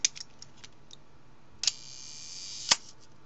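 A vintage Nikon S rangefinder camera under repair fires its shutter at slow speeds, giving a few sharp, close mechanical clicks spaced about a second apart, with faint light ticks in between.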